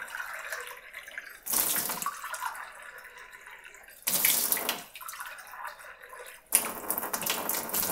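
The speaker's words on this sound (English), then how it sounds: "here's the faucet for my RO filtered water. I'm going to go ahead and turn it on, let it run for a little bit" RO filtered water runs from a kitchen faucet into a cup, the splashing flow switching on and off in three bursts with quiet dripping between them.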